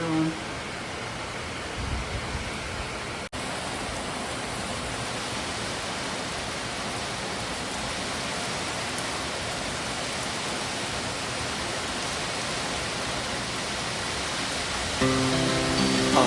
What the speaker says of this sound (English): Apparently it's raining and electricity is off. Heavy rain.